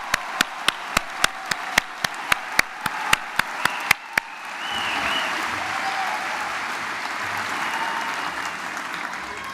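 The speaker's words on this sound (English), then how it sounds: "One more round of applause for the 2018 graduates of the BBA program of the Cox School of Business." Applause from the audience at the May 2018 Cox School of Business BBA graduation ceremony, opening with a steady run of loud, sharp individual claps that swell into a dense, sustained ovation.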